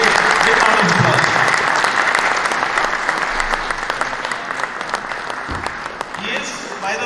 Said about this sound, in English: Please give round of applause.